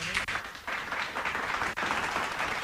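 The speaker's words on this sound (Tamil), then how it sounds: "அரங்கம் நிறைந்த கரகோஷம் ஒலிக்க வேண்டும்" Studio audience at a Sri Lankan radio quiz programme giving a steady burst of clapping, dense and continuous at moderate loudness, with a few sharper claps standing out.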